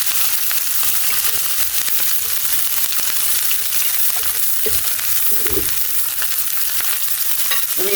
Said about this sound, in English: to this I will add